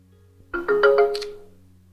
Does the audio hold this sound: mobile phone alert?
yes